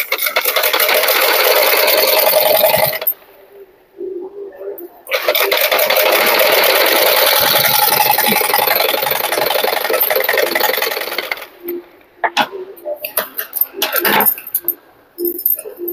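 Sewing machine stitching a blouse, running in long steady bursts of rapid mechanical chatter separated by short pauses, then a few brief, irregular clicks and knocks near the end.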